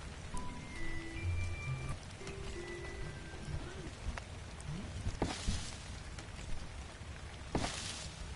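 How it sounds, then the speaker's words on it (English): Rain falling in Ark: Survival Evolved, a constant soft hiss of drops on surfaces with brief sharper splashes and bursts, quiet overall, beneath faint tonal game sounds. "It's raining in an arc."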